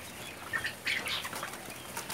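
Birds in a closed-house coop flap their wings in a couple of short, quiet bursts, a soft fluttering with faint chirps nearby.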